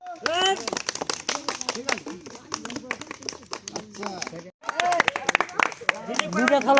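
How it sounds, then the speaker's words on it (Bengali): A crowd claps at a prize-giving during a Saraswati Puja celebration, with bursts of brisk, uneven applause across the whole stretch, mixed with chatter and a short pause before the clapping resumes strongly. "জোরে তালি জোরে তালি বড় তালি"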